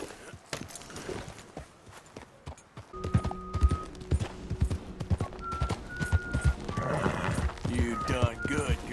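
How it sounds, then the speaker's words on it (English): A horse in Red Dead Redemption II whinnies and then trots into a rhythmic gallop, its hooves clip-clopping up close while a voice and game music play over it. "Giddy up."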